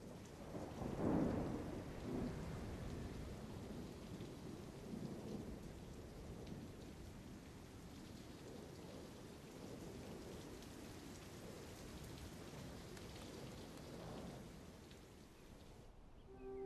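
A North American sagebrush desert thunderstorm brings steady, dense rainfall with deep rumbles of thunder rolling through, strongest near the start. It is distant and continuous, with no talk.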